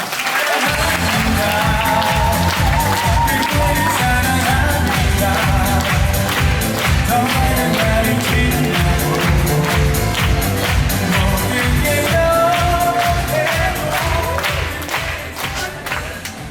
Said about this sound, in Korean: 여러분, 주경 대표님을 큰 박수로 모시겠습니다.